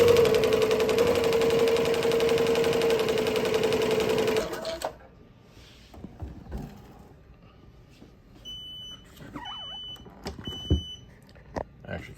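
A sewing machine stitches embroidered custom Diamond Back BMX pads, a loud, fast, steady mechanical whirring buzz for about four seconds that stops abruptly, followed by quieter handling noises and a few faint beeps.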